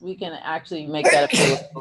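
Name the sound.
sneeze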